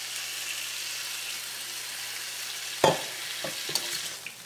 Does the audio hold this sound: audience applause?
no